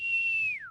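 A spectator at an NHL hockey game lets out a single piercing whistle, held steady and then sliding downward at the end, loud and close over faint crowd background.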